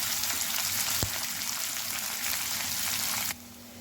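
Steady, dense sizzling of asafoetida in hot tempering oil, with one sharp crackle early on, before the sizzle drops off near the end.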